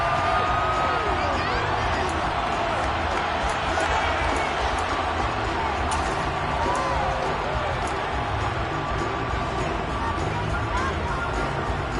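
A video game football stadium crowd roars steadily, a dense continuous wash of shouting and cheering, while a commentator talks over it.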